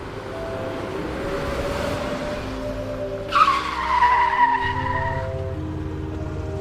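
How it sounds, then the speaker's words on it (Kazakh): A car is brought to a halt. A steady engine hum gives way to a sharp squeal of tires midway, then a low idling rumble remains. No one speaks. "5-ақ минутқа ғана көлікті тоқтатамын"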